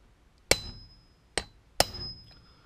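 A steel punch struck by a hammer on a metal tube to start a drill hole: three sharp ringing metallic taps, well spaced and close, each with a bright lingering ring, and no talking.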